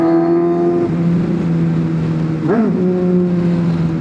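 A motorcycle engine runs steadily at close range, its hum holding a constant pitch before a brief rev swells and dips midway through; no one speaks.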